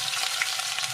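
Chopped garlic and ginger frying in hot oil with asafoetida and carom seeds in a kadai, a steady dense sizzle that stays loud and even throughout the short moment, with no voices.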